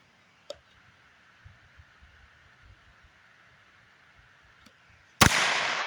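A Heritage 9-inch revolver loaded with Mini Mag hollow points fires a single sharp, loud shot near the end, ringing out after a few faint clicks and some quiet outdoor range ambience.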